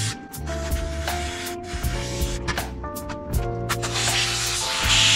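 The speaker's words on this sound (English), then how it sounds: "I'm not holding the airline down flat out, I'm just pressing it a little bit, just enough to dry that disc cleaner off" Compressed air from an air line blowing disc cleaner off a bicycle headset bearing, a close hissing spray in short pulses over hum and clatter, rising to a stronger blast at the end.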